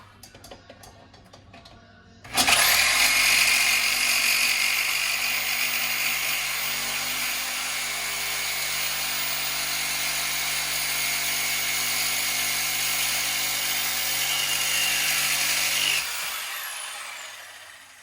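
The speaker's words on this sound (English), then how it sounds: "my preferred method is a jigsaw with a metal blade." A jigsaw with a metal blade starts abruptly and runs continuously for about fourteen seconds, a loud buzzing, grinding cut through metal, then stops, leaving quiet.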